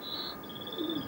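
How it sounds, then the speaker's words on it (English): A canary and a European goldfinch sing in a backyard in England, a thin sustained whistle-like song carrying faintly over steady background noise, with a brief lower warble near the end. "That's a canary and a European goldfinch, right?"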